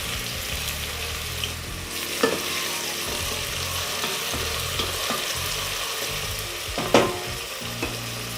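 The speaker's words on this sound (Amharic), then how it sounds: "ከዛም ሽንኩርቴን ጨምራለሁ" Chopped onions frying in hot oil for an Ethiopian cabbage and chickpea dish sizzle steadily and loudly up close, with a few sharper crackles and stirring scrapes.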